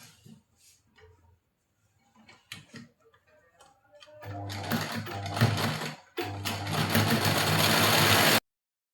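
Sewing machine stitching a katori blouse, running in two loud sustained bursts with a brief pause between, after a stretch of quiet handling clicks.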